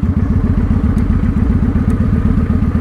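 A motorcycle in first gear idles along on light throttle with the clutch feathered, its engine giving a steady, loud, low pulsing chug throughout with no voices.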